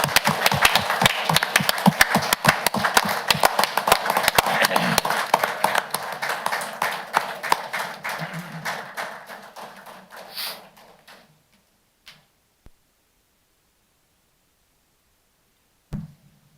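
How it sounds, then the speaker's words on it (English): Applause at a county council meeting: a room of people clapping briskly for several seconds, then thinning out to a few scattered claps before fading to silence. "Join me in a round of applause."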